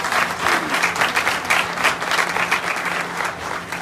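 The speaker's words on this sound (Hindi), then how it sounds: "सभी लोग अपने माता पिता के लिए एक बार जोरदार ताली जरूर बजाएं।" An audience applauds with steady, dense clapping that holds throughout, a full crowd sound without pauses.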